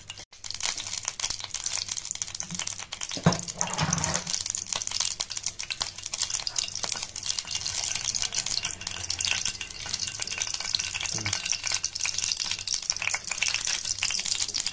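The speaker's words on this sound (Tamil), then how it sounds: "சட்டி நல்லா காஞ்ச பிறகு கொஞ்சம் நெய் ஊற்றி நம்ம எடுத்து வச்சுருக்க முந்திரி பருப்பையும் கிறிஸ்மஸ் பழத்தையும் நல்லா வறுத்து எடுத்துக்கிடணும்." Cashews and raisins fried in ghee in a dry-heated pan for Kerala ada payasam, giving a steady close sizzle with stirring and crinkling scrapes throughout and a few louder stirring knocks, no talking.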